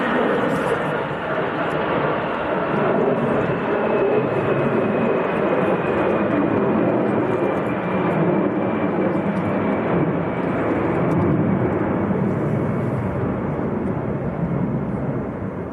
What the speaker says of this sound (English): And that is the Aer Lingus from Dublin. He'll go around and gears going back up